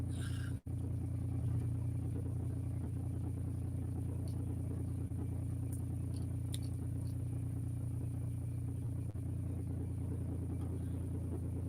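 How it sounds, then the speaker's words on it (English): A car idles parked just behind the microphone, a steady low rumble and hum that holds for the whole stretch with only a few faint clicks and no talking. "I don't know what kind of car it is, but somebody parked right behind me."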